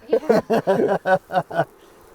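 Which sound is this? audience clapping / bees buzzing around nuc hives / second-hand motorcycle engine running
bees buzzing around nuc hives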